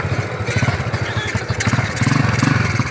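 A motorcycle engine chugs unevenly nearby, sputtering in rough, pulsing bursts as it idles.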